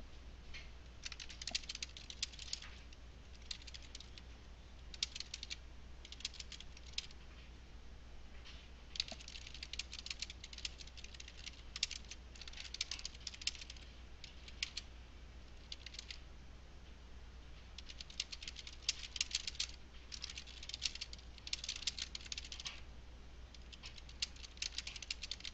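Typing on a computer keyboard, a steady run of quiet, close key clicks in bursts and pauses, with no voices.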